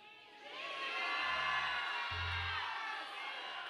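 A church congregation calls out loudly together in a sustained, swelling shout during a Sunday service, heard from a distance with a roomy echo.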